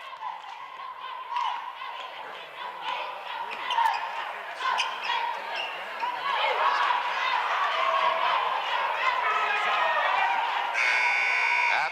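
A high school girls' basketball game between the Kecoughtan Lady Warriors and the Denbigh Lady Patriots, with a ball bouncing, crowd noise and a voice talking, then a loud harsh buzzer sounds near the end.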